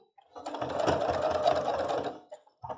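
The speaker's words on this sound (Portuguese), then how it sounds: "Então, para a máquina não sofrer tanto, eu começo costurando aqui na parte que está mais fina." A sewing machine runs in one quick burst of rapid stitching as it sews sianinha rickrack trim onto a cloth dish towel, then stops with a brief whirr after.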